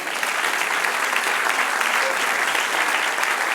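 Church congregation applauding together during a sermon, a steady dense clapping that fills the room evenly from start to finish, loud and continuous with no talk over it.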